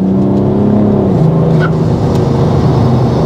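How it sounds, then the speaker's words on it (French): A BMW 335d tuned mono turbo diesel with an external wastegate roars loud and close in a steady, continuous engine drone, with the pitch easing slightly partway through. "On a limite le bruit là d'une wastegate externe."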